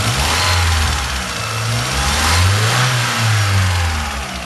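A Chevrolet Zafira with a blown head gasket revs repeatedly, its engine note climbing and dropping in smooth waves, loud and close without any voices.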